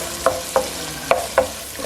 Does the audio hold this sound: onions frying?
yes